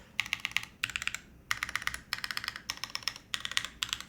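Rapid typing on a modded Matrix mechanical keyboard, crisp close-up clacks coming in bursts separated by short pauses, with no voices.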